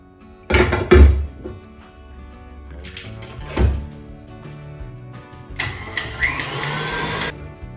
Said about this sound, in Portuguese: agora a gente volta a massa para a batedeira por 15 segundos